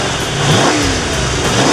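A restored 1984 Ford Bronco II XLT engine, its exhaust fitted with two rear resonators, surging at a close, loud, continuous roar, with the revs swelling and dipping in waves.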